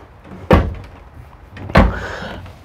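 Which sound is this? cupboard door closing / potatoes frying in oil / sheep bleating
cupboard door closing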